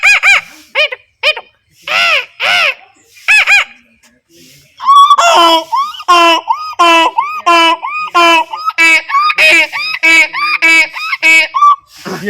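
A voice imitates a donkey's bray: a few short bursts, then a long series of loud, rapid, see-sawing honks with harsh harmonics, each one close and alone.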